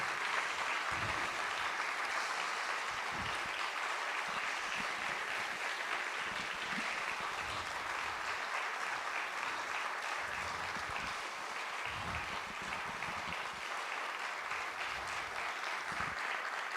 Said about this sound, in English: kindly stand and give them a great round of applause